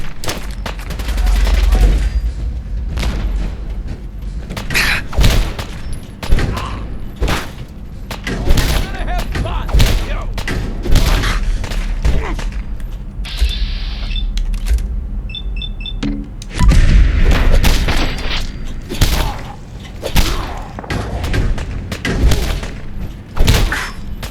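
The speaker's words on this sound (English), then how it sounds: "I think I want to add in a frag here because they're a little bit behind cover." Frag grenade blasts and heavy gunfire fill a Fallout 4 firefight, a dense run of rapid shots and booming thuds with little pause. A voice talks through parts of it.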